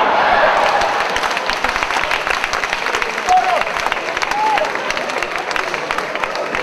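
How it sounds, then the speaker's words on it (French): An audience at a French-language comedy show gives a sustained round of dense applause, filling the whole stretch loudly with a few faint whistles and cheers mixed in. "On applaudit encore une fois pour lui."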